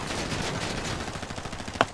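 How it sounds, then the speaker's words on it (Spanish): Gunfire in a GTA roleplay video game shootout, a dense burst of rapid shots blending into continuous rattling, with one sharper crack near the end, moderately loud. "yo voy a ir a cubrir a esta gente que siguen disparando"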